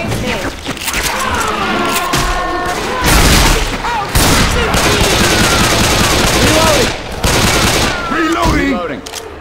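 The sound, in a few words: gunfire in Left 4 Dead 2 video game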